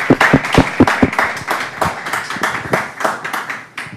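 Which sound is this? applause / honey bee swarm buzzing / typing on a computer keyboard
applause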